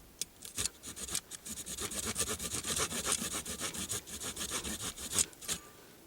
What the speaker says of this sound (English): you don't have much of a draw when you're sawing, so it has to be short little bursts like that